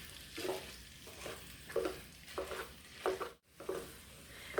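Ground meat sizzles and gets stirred on a PowerXL smokeless grill, a close crackling fry punctuated by rhythmic scraping stirs with a short pause midway, no one talking.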